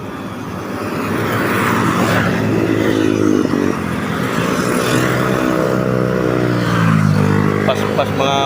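Motorcycles rumble past on a potholed, flood-damaged road, a loud continuous engine drone that swells and fades as each one goes by, with a whining pass near the end.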